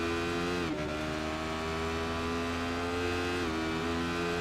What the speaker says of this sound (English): just went back onto the throttle momentarily.